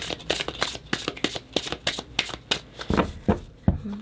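Tarot cards being shuffled and drawn, a rapid series of crisp riffling snaps and slaps close up, steady and rhythmic and fairly quiet, with no talk over it.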